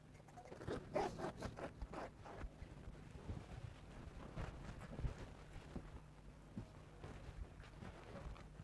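Scissors cutting fabric for a bubu gown, a series of close, rhythmic crunchy snips and rustles, busier at first then sparser, with no talking.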